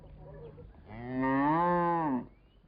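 Cattle in Burundi lowing, one long, loud, drawn-out moo close by that rises and then cuts off, preceded by a brief quieter grunt.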